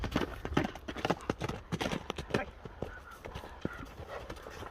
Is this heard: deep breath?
no